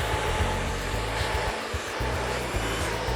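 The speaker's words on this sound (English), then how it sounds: "Continue wrap drying all the way through, wrapping her hair around her head," A hair dryer fitted with a director nozzle blows hair dry, a loud continuous whirring rush held close, its tone briefly dipping and shifting as the airflow moves through the hair.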